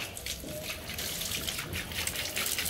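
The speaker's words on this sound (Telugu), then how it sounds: "మా పాప చెట్లకి నీళ్ళు పోస్తున్నారు" Water splashes steadily as it is poured over plants outside a school, making a continuous close gushing and trickling sound throughout, with no talking.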